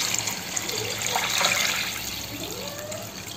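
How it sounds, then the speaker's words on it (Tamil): Water poured onto rice in a pot for mushroom biryani, a close, steady gushing splash that swells midway and then settles into a softer, continuous trickle. "இப்போ ரெண்டு மடங்கு அளவு நான் தண்ணி ஊற்றிட்டேன்"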